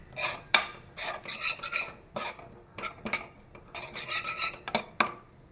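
A spoon stirs dal in a pot, making close, irregular scraping and rasping strokes against the metal with brief pauses between the movements.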